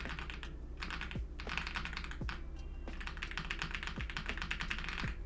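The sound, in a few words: computer keyboard typing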